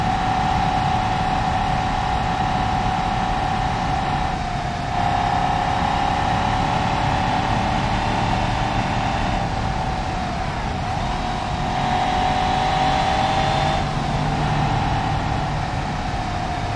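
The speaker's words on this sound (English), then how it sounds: "we've got a rear-wheel drive, powerful 5 Series with a welded diff" A rear-wheel-drive BMW 540i 5 Series with a welded differential drives along, giving a steady cabin drone of engine and road noise that swells and eases slightly as the car accelerates and holds speed.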